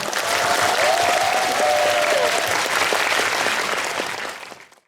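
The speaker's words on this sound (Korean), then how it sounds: "큰 박수 부탁드립니다" An audience at a military memorial concert applauds a conductor, a dense, loud, sustained wash of clapping that continues evenly before tapering off at the end.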